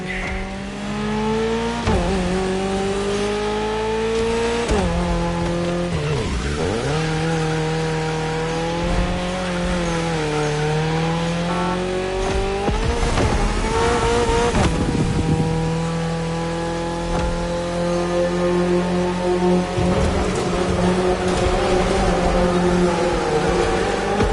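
Race cars driving in The Crew Motorfest, with a loud engine whine rising and falling through gear shifts, sharp upshifts and bursts of acceleration, and occasional tire squeal and rushing passes over roughly twenty-four seconds.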